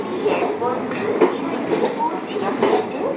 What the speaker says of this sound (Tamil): இந்த பக்கத்தில் நிற்கிற ட்ரெயின் வந்து கோயம்புத்தூர்-நாகர்கோவில் எக்ஸ்பிரஸ்.